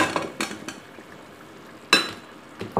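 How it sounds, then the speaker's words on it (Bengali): Pieces of sweet pumpkin tipped into a pan of fried spices, giving a few short bursts of clatter and sizzle against a quiet kitchen background. "এখন অ্যাড করে দিচ্ছি মিষ্টি কুমড়াগুলো অ্যাড করে দিচ্ছি"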